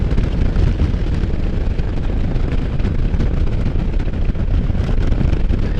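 Heavy gusting wind roaring over the microphone while riding a Can-Am Spyder F3, a loud, dense, unbroken rush with no voices.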